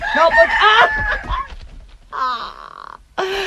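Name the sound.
rooster crowing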